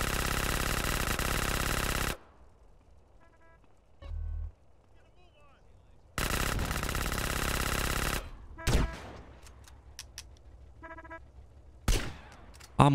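Gunfire in GTA: San Andreas: two long, loud, sustained bursts of rapid fire separated by quieter stretches holding a few sharp isolated shots and faint game noise.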